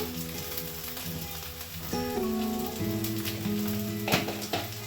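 Onions fry in a pan as ground cumin and coriander are added, a continuous crackling sizzle with stirring scrapes and shifting tones from the pan, close and steady.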